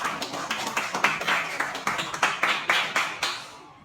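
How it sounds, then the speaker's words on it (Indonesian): A classroom of students claps for a student group, sharp distinct claps in a loose rhythm of about two per second that are close and fairly loud, tapering off and stopping just before the end. "Ya, silakan tepuk tangan untuk kelompok 1."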